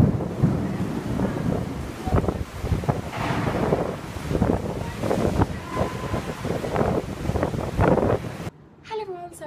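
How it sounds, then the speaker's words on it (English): Heavy rain pours down during a Sydney thunderstorm: a steady, dense roar with low rumbles of thunder and wind buffeting the microphone, all cutting off abruptly near the end. "it's absolutely pouring down. There's some thunder, there's lightning"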